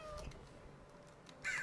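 A cat in Minecraft gives a short, faint meow near the end, over a quiet game background with no talk.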